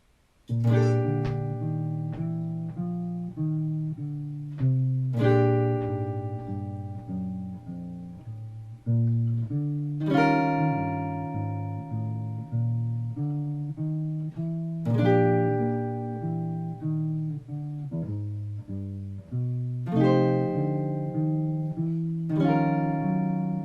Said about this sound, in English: so I've pre-recorded a bass line. Let me show you how it sounds like this.